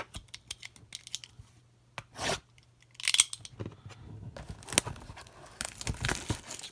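Foil packs from a Sage Hit Premier Draft football card blaster box being ripped open: sharp tearing bursts and crinkling of wrappers, with scattered clicks and rustling, close and fairly quiet, no talking.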